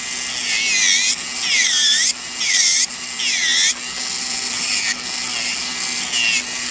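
Electric nail drill with a manicure drill bit, whining at high pitch in several bursts that rise and fall as it speeds up and slows, steady and close, with no talking.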